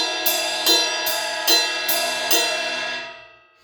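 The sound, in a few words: ride cymbal alternating between outer part and bell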